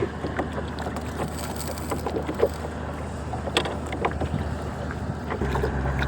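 Strong wind buffets the microphone with a steady low roar beside a big river, alongside faint water sloshing and occasional light knocks, no voices.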